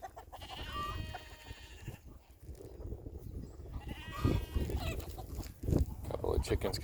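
Chickens and a big rooster pecking at rice scattered on the ground as treats, with steady clucking and occasional squawks close by, mixed with outdoor noise and a person talking throughout.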